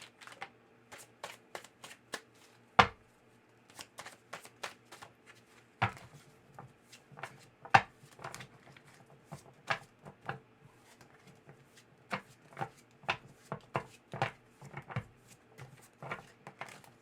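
Tarot cards being shuffled close by in a quiet room, a long, irregular run of soft riffling flicks and sharper snaps of the deck, with no talking.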